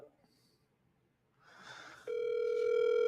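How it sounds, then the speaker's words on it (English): A telephone line tone plays while a call is placed during a cold-calling demonstration. After a quiet stretch of faint murmur, a loud, steady, continuous tone starts about two-thirds of the way in and holds to the end. "Let's see if we can get Polly on the phone."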